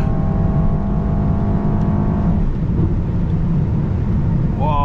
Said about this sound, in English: The car feels like a rocket, so much boost, so much power.